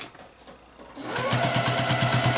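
Sewing machine stitching fabric for a tight-fitting face mask, starting after a quiet second, then running steadily with a rapid, even needle rhythm, close and loud.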